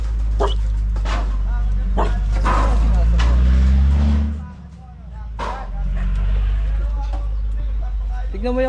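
A dog barks several times in short bursts amid talking voices and a steady low rumble of a nearby engine.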